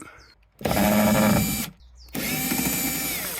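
A power driver fitted with a T20 Torx bit undoes Torx screws on a Volkswagen Passat Estate tailgate, two loud close whirring bursts of about a second each separated by a short pause.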